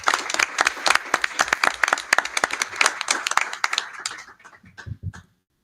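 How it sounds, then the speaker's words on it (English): An audience at a school board meeting gives a round of applause, dense hand clapping close by for about four seconds before it thins out into a few scattered claps. "Round of applause for them, please."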